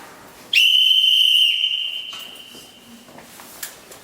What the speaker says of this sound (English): Inmates at 7 o'clock would be sharply woken up by a whistle.